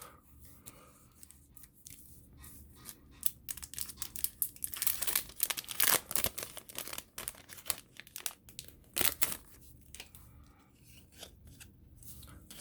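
A protective stamp wrapper is peeled off a Dragon Ball trading card, giving soft crinkling and crackling in irregular bursts that build to louder rustles in the middle before easing off; close by and with no talk.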